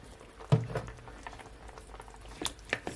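A spoon stirs braised short rib sauce in a pot, with quiet bubbling and a few soft scrapes and clinks, faint and intermittent.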